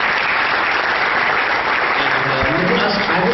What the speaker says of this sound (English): A round of applause for Ruben.